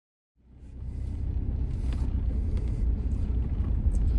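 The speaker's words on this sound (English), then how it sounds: "I just got in my truck and I'm heading down Fire Rock 70" A truck's engine starts up inside the cab and settles into a steady, close, low rumble as it drives down the Fire Rock 70 road.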